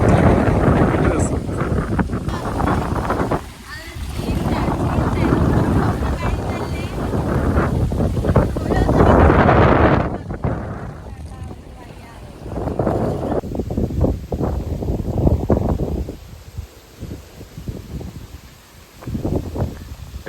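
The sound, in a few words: wind blowing at a park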